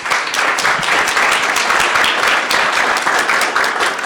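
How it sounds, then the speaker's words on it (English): Audience applause at a university accelerator graduation and ribbon-cutting ceremony, a steady, dense roar of many hands clapping that holds evenly throughout. "Please give them a round of applause."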